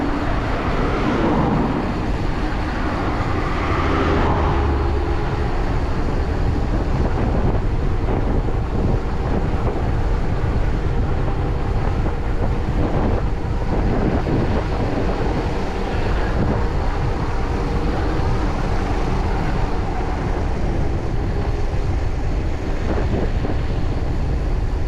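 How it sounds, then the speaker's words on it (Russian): Strong wind roars steadily across the microphone on a climb toward a forest above Yalta in Crimea, a loud continuous buffeting rush with gusts, and no voices. "Капец, тут ветер."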